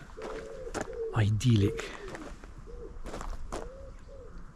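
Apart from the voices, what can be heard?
pigeons and doves cooing in a Cotswold village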